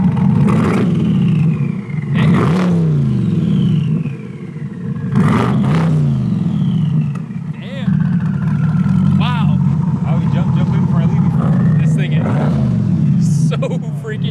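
Twin-turbo V8 C8 Corvette running on boost, its engine revved repeatedly in sharp bursts with loud exhaust roar between steady idling, close by, while people talk over it.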